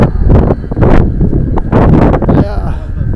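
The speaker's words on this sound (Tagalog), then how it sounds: "lagi lakas ng hangin." Strong wind buffets the microphone outdoors in Brno, Czech Republic, as loud, rumbling gusts under people talking close by.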